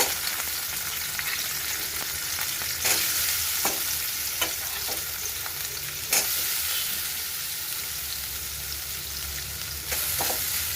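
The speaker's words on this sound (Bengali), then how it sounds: "সয়াবিনটা আমি ভেজে নেব সয়াবিন ভেজে নেব" Softened soybean chunks frying in hot oil, a continuous close sizzle with occasional sharper bursts where they are stirred, steady throughout with no talk.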